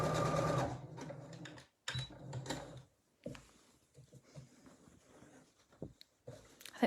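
Sewing machine stitching decorative lines on a fabric drawstring bag, short quiet whirring runs that start and stop with pauses and soft handling clicks in between.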